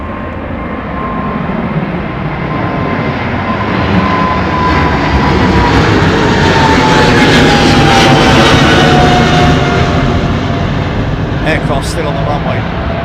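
A jet airliner going around at London Heathrow Airport produces a loud, continuous engine roar that swells toward the middle and holds, a broad rushing drone filling the whole stretch.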